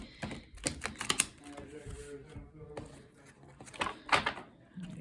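A tarot deck is shuffled by hand in a few quick riffling, clattering bursts of card slaps, close by, with a voice talking between them.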